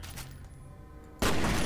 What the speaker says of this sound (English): Ooh, that's a grenade.